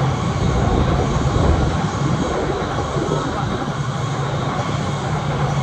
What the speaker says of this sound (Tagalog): every 5 minutes lang o 3 minutes, dumadaan na naman ang bullet train.